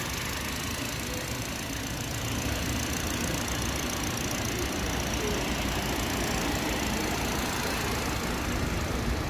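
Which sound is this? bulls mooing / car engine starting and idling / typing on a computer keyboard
car engine starting and idling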